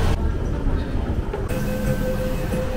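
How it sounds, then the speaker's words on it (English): An MTR train at Yau Ma Tei Station in Hong Kong rumbles steadily on the platform with a low hum and rising tones, loud and close, with faint talk around. "We're gonna take this train to TST."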